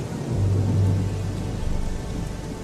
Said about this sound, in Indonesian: berubah seketika menjadi hujan yang cukup lebat